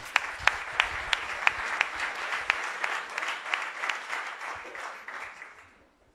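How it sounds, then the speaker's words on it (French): An audience applauds at a French startup pitch night, distinct sharp claps ringing out in a quick, steady rhythm before the clapping thins and fades to silence near the end. "Et on applaudit aussi."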